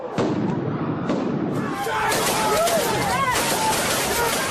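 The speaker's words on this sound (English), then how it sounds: "But that's exactly what they did, shooting tear gas and rubber bullets." Police fire tear gas canisters and rubber bullets at a protest crowd, sending scattered pops and bangs through loud crowd hubbub, shouting and whistling.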